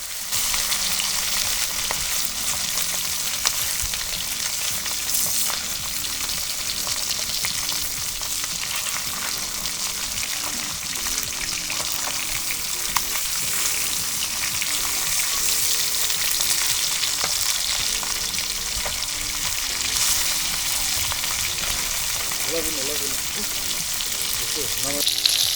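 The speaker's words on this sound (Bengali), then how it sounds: "মাছগুলো এক পাশ ভাজা হয়ে গেছে, এখন আমি উল্টে নিচ্ছি" Tengra fish fry in oil in a karai, giving a loud, steady crackling sizzle that runs unbroken for the whole stretch as the pieces are turned.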